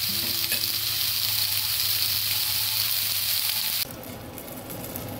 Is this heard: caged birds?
no